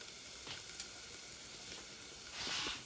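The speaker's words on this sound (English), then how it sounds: "while the onions are sweating" Onions and garlic sweat in a lidded pan with a steady, soft sizzle, a few faint clicks and a brief brighter hiss swelling near the end; no one speaks.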